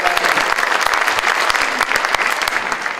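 Audience applause at a Kiowa County promenade event, a steady dense clatter of many hands clapping close by, with sharper individual claps standing out throughout.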